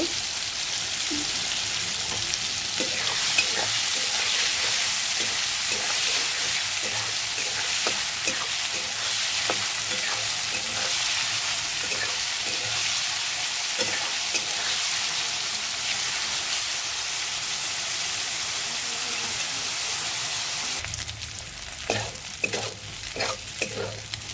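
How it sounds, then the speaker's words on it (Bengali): Soybean chunks sizzle steadily in hot oil while being stirred in a pan, a loud, continuous frying hiss with scraping stir strokes throughout, easing slightly near the end as they are lifted out. "সয়াবিনটা ভাজা হয়ে গেছে, তুলে নেবো এটা।"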